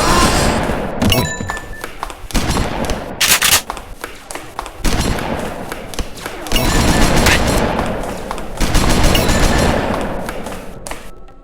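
Machine gun fire in the PC audio game BK3, loud dense bursts of rapid shots with booming impacts, coming in several waves with brief lulls between them.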